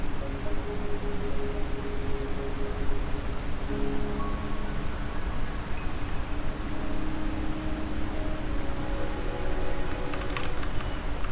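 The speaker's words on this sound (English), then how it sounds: "The rain is subsiding, and the sky will soon clear." Steady rain falling in the Wuthering Waves video game, a continuous even hiss of drops that stays moderately loud throughout without pause.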